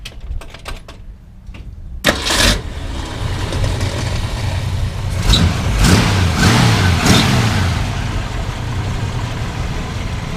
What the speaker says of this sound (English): we're going to start it up again because I want you to hear this motor again